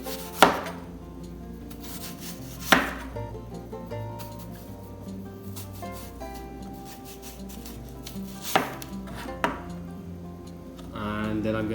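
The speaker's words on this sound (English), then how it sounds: "And then I'm going to kind of chop like this as well." A knife chopping an apple on a cutting board, a few sharp knocks spaced irregularly over a continuous low rubbing and sliding sound, close and fairly clear with no talk.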